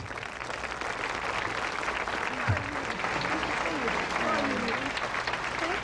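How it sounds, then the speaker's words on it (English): An audience applauds as a woman is walked to the podium, the steady clapping filling the room while people talk and exclaim over it. "Walk that lady to the podium with a round of applause."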